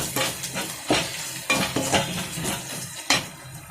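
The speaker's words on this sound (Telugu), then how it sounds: "1 నిమిషానికి కొంచెం వేగిపోతుంది." Tomato curry for an egg dish fries in a pan with a continuous sizzle, broken by repeated scraping stir strokes of a utensil against the metal, close and fairly loud with no voices.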